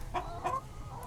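Hens at a farm raising layers for wholesale eggs give two short, close clucks in quick succession, with a quieter call near the end over a low background rumble.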